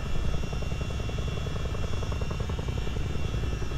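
A Chinook tandem-rotor helicopter in Microsoft Flight Simulator, flying a wildfire-fighting mission in Canada, gives a loud, continuous rotor thrum and turbine drone with steady rhythmic blade pulsing throughout, no voices.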